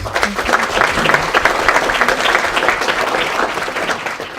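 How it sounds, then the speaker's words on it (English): Dense, steady audience applause thanking the speakers at a lecture on development cooperation, loud and sustained throughout with many overlapping claps and no talking. "a big applause"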